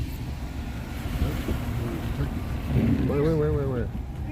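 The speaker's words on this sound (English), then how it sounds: "Why do all the cars nowadays make that wobbling sound at the back of the windows open?" Low rhythmic wind buffeting throbs inside a moving car with its rear windows open, a steady rumbling pulse under engine and road noise, while people talk over it.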